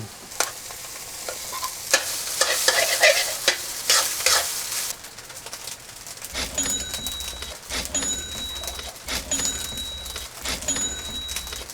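Garlic browning in a pan before cooked rice goes in for fried rice, a close sizzle with brisk scraping stirs, then a steadier fry with rhythmic clinks of the spatula against the pan.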